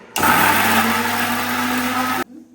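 A kitchen mixer grinder, used while making a coconut masala, runs in one loud, steady whirring burst of about two seconds that starts and stops abruptly.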